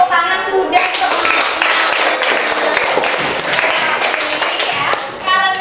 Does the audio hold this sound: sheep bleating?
no